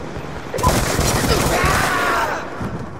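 Rapid gunfire from the Black Ops 2 video game during a team deathmatch on the Cargo map, a dense, loud burst of overlapping shots lasting about two seconds, with faint voices in the background.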